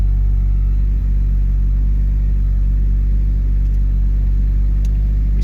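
A custom turbocharged Toyota 1NZ four-cylinder runs at a steady, loud idle, its deep rumble constant and unbroken throughout with no voices.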